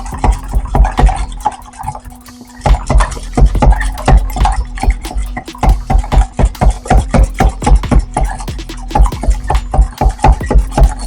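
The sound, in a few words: whisking an egg in a bowl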